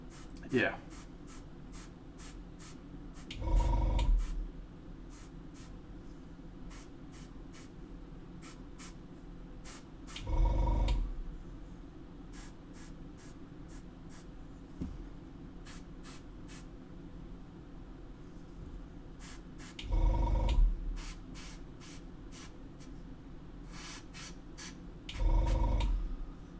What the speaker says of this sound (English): I love a bit of cheeky airbrushing